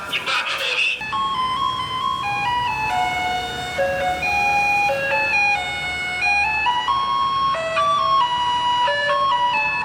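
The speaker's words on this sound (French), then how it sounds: "Les camions poubelles passent à une certaine heure tous les jours pour que les gens puissent entendre leur arrivée" A Taiwanese garbage truck plays its tinkly electronic melody to announce its arrival, a loud, steady tune of bright notes heard outdoors with street noise underneath.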